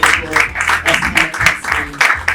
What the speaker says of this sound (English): Please let's give you another round of applause